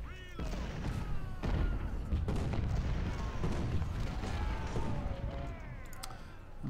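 Artillery fire in the Ultimate General: Civil War video game, Battle of Chickamauga: repeated thudding cannon booms and crackling musket shots at middling distance, with whistling shells over a continuous battle din.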